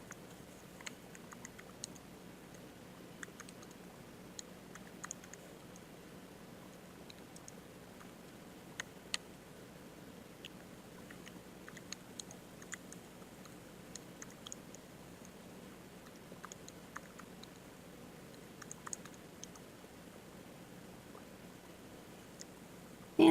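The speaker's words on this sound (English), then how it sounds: "So I'm just going to type all of that in." Numbers are entered on a computer keyboard, with faint, scattered key clicks ticking irregularly over a quiet room for about twenty seconds.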